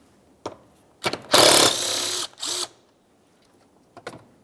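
A ratchet works loose the single 8mm mounting bolt holding the coolant reservoir to the fan shroud on a 2003-2011 Mercury Grand Marquis, heard as a few short bursts of close mechanical clicking separated by pauses, with no talking.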